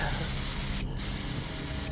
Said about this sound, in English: A spray, another spray, until I exhausted myself.